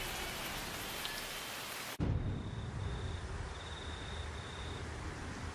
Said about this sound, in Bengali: এদিকে বৃষ্টিও অঝরে ঝরছে।